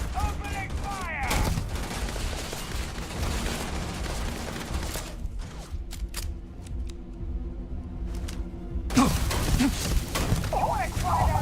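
Video game gunfire in Starfield hardcore survival mode: a sustained burst of rapid shots with a mechanical clatter, then a lull with a low hum and a few scattered cracks before heavier firing returns. Talk is mixed in.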